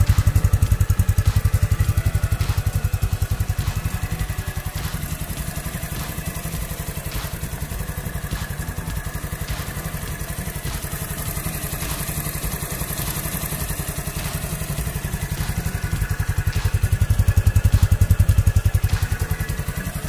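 The Euro Keeway Cafe Racer 152 motorcycle idles at close range, a steady, fairly quiet low exhaust putter with a rapid even pulse and light mechanical clatter, swelling slightly near the end.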